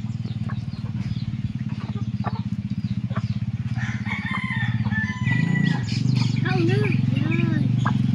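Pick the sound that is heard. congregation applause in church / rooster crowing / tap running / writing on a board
rooster crowing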